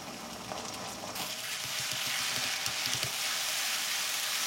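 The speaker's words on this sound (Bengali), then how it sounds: "ভাজা হলে এবার আদা বাটা, রসুন বাটা দেবো।" Onions fried crisp hiss in a pan as ginger and garlic paste go in, a steady soft sizzle with a few light stirring knocks, close by without talking.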